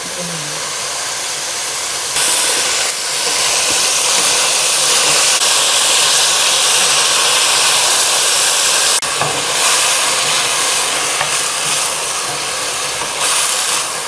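Sweet potato stems stir-frying in olive oil, a loud, even hiss of steam and sizzle lasting throughout, with faint stirring bumps.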